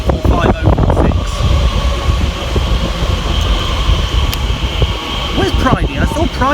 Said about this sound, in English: arriving over on the far side will be the 1246 Elizabeth line service from London Paddington through to Shenfield